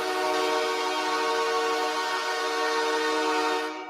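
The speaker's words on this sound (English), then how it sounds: "The LA Kings goal horn sounds like this, Lonzo." The LA Kings hockey goal horn blares, a loud sustained train-like chord that holds steady for almost four seconds before cutting off, with no voices over it.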